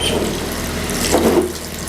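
Water pours steadily from a tap in a kitchen, a continuous splashing stream for a couple of seconds, being added in a small amount to pressure-cooked mutton for a mutton fry.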